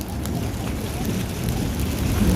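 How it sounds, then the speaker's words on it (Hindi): Heavy rain and hail pour down in a dense, steady roar, with no pauses, during an outdoor tape-ball cricket match in Kuwait. "ज़बरदस्त बारिश बरस रही है, वो तो ओले गिर रहे हैं"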